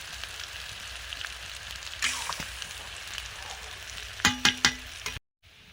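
Chopped ripe tomatoes sizzle steadily in a hot frying pan, a continuous close crackle with a few sharper spatters and stirring clicks near the end before the sound cuts off.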